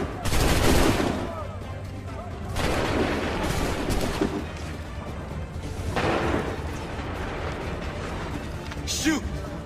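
Soldiers' volleys of gunfire crackle and boom in Assassin's Creed III, several loud bursts of musket fire spread across the battle with shouting voices mixed in.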